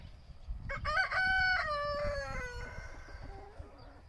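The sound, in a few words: chickens clucking on a farm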